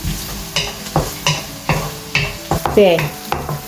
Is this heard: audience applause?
no